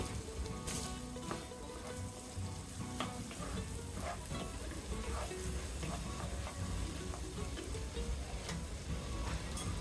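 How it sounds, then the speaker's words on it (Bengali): Chopped yardlong beans fry in a pan with carrots for egg fried rice, giving a continuous dense sizzle with stirring scrapes throughout. "কিছুক্ষণ আমি ভেজে নেব বরবটি কুচি দিয়ে দিব"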